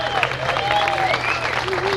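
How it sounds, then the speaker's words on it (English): A crowd at a surfing walk of fame induction claps and cheers loudly and continuously, with whistles and shouted voices rising above the dense clapping. "Give a round of applause, PT"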